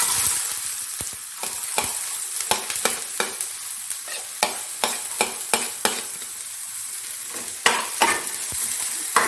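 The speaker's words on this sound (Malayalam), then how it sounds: "ഇപ്പോൾ ഫസ്റ്റ് തന്നെ നമുക്ക് അരിഞ്ഞ് വെച്ച സവാള ഇട്ട് കൊടുക്കാം." Chopped onions hit hot oil for an egg bhurji, giving a steady close sizzle broken by sharp scraping taps of a spoon stirring the pan, with no voices.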